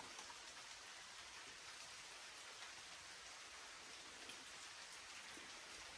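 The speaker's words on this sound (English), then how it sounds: "Starting to rain again." Rain falls steadily and evenly outdoors, a soft continuous hiss of drops on surfaces with no breaks or voices, fairly faint and diffuse throughout.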